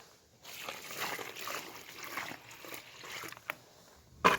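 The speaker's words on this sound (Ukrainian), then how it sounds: "наливаю побільше водички" Water pours and sloshes steadily onto garden soil where a hydrangea is being planted, for a few seconds, with a soft trickling texture and a couple of brief clinks near the end.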